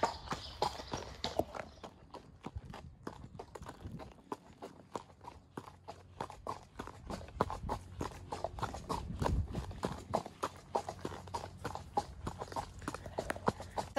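A horse on a quiet forest ride walks with steady, rhythmic clip-clopping hooves, close and continuous for the whole stretch, with no talking.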